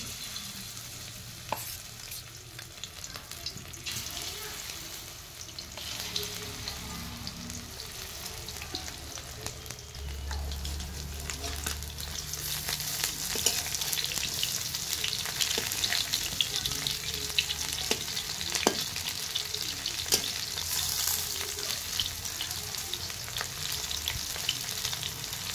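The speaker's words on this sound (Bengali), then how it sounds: "একই পদ্ধতিতে বাকি যে ব্যাটারগুলো আছে সবগুলো ভেজে নিব।" Banana flower fritters frying in oil on a clay stove, a continuous bubbling sizzle with occasional stirring and clinks, growing louder toward the end, with no talk.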